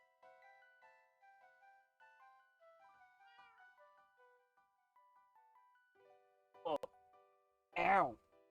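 Two loud, close cat meows from a Minecraft cat, the second longer, coming after several seconds of soft melodic game music.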